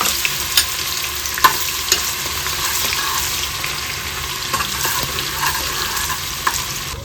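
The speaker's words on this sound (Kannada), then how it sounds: "ಸಣ್ಣದಾಗಿ ಕಟ್ ಮಾಡಿದ ಈರುಳ್ಳಿಯನ್ನು ಸೇರಿಸ್ಕೊಳ್ಳೋಣ." Finely chopped onions fry in oil with mustard seeds for a raw jackfruit curry, a loud close sizzle with scattered spoon taps and stirring scrapes, no voices.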